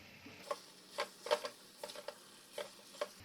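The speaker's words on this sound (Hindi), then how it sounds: "अब इसमें ये सब्जियां डाल देंगे। अच्छे से मिक्स करेंगे" Vegetables are stirred into fried masala in a pot for a restaurant-style veg Diwani handi, soft sizzling under a series of spaced spoon scrapes and knocks against the metal, close and fairly quiet.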